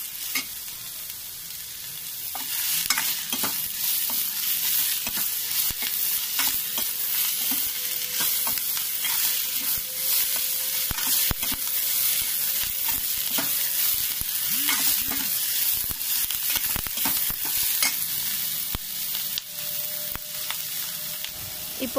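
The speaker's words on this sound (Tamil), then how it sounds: "வெங்காயம் நல்லா கொஞ்சம் பொன்னிற கலர் வர வரைக்கும் நல்லா வதக்கிடலாம்." Onions fry and sizzle in a pan, stirred until golden, with a continuous crackling hiss punctuated by frequent scraping and tapping of a spoon against the pan, close and steady throughout.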